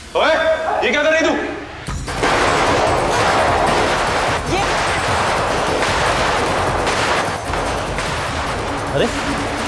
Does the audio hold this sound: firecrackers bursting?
yes